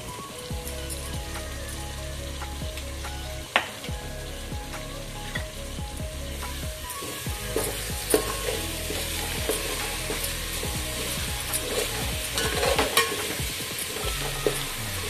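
Green chili fries with turmeric and asafoetida in a pan and is stirred, making a steady close sizzle with a few spoon clinks and scrapes, and no talking.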